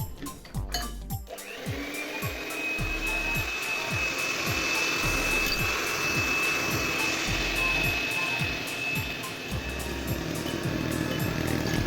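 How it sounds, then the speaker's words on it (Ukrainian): An electric hand mixer runs at low speed, beating milk into a chocolate cupcake batter. Its steady, close motor whine lasts throughout, with a faint rhythmic chugging beneath it, and a few clatters at the start. "збиваємо на маленькій швидкості міксером"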